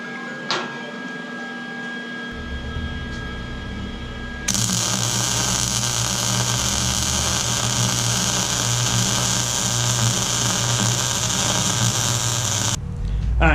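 Lincoln Electric Easy Mig 140 MIG welder running on thick plate: a steady, loud crackling buzz begins a few seconds in and sustains for about eight seconds before cutting off, following quieter hum and a faint voice.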